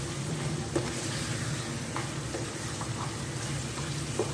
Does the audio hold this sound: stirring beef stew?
yes